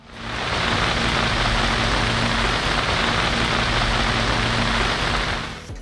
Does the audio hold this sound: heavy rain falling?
yes